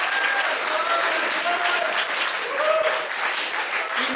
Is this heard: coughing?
no